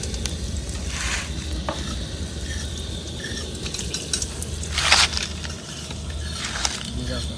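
Bay leaves and dried chillies sizzle in hot oil with a steady low crackle, while occasional utensil scrapes and clinks punctuate the frying nearby and soft voices are faintly present.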